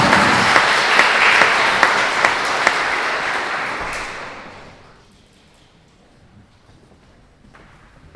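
Audience applause for the second-place team, OSP Dąbrówka, at a municipal safety-day final gala in Celestynów: loud sustained clapping with a few sharp accents for about four seconds, then fading to quiet room tone.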